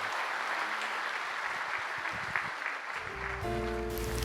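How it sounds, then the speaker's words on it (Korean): Applause in a church congregation during a Sunday service as a birth incentive is presented, broadband clapping filling the space steadily, with organ or keyboard chords entering near the end. "출산 장려금 드릴 때 박수로 축하해 주시기 바랍니다."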